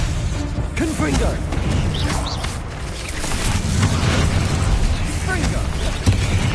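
Confringo fire spell explosions in Hogwarts Legacy gameplay, booming bursts and crackling blasts over a dense, loud game soundtrack, with a voice shouting spell names.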